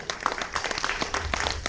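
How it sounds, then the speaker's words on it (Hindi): Farewell applause from the audience at a Hindi kavi sammelan on the Kumbh, a steady wash of many hands clapping close by for about two seconds. "एक बार मेरे लिए विदा की तालियां आप सब बजा दीजिए।"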